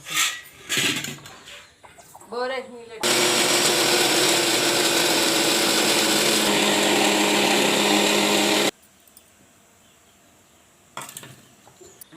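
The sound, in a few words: mixer grinder blending chutney with green chillies and peanuts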